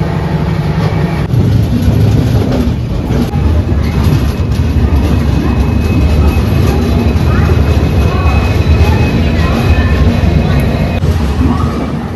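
Inside an AC 3-tier economy coach of the Gitanjali Express, the train rumbles loudly and continuously with steady wheel noise on the rails throughout.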